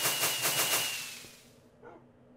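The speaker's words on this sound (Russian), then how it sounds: "Это какая-то петарда вонючая," Minecraft fireworks fizzling like cheap firecrackers, a quick string of rapid crackling pops that trails away within about a second and a half, followed by a faint late pop.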